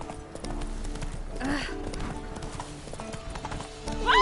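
Roach, the horse in the video game Witcher 3, gallops with a steady, close clip-clop of hooves, with a brief whinny midway and a swell of noise at the end.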